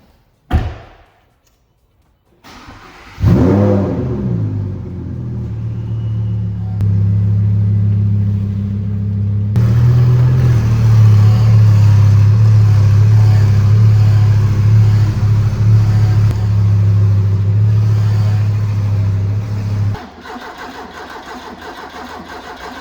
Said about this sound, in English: Let's get these cars parked up